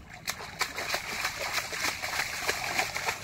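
Water splashed and slapped by hand while a container is filled for releasing fish at a pond bank, a steady run of wet splatters and sloshes with sharp slaps, close and moderately loud.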